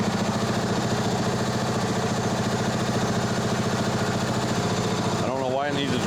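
A Toro lawn mower engine idles steadily with an even, chugging putter throughout, close and continuous, with a brief clatter of other noise near the end.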